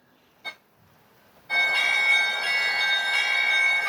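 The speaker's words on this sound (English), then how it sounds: "And these are sounds from a bell, either from St. Sophia or from both of them." A church bell at St. Sophia Cathedral in Kyiv strikes once faintly, then breaks into loud, sustained ringing with bright layered overtones that fill the rest of the moment.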